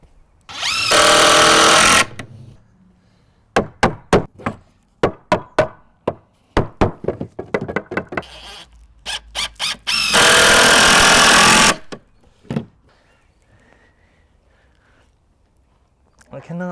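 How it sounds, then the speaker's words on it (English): A cordless drill drives screws into wood while a chicken coop is framed, with two long loud whirring runs and many short bursts, close and loud, between brief sharp knocks. "I cannot believe how well this drill's working."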